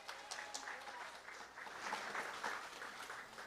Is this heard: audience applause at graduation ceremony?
yes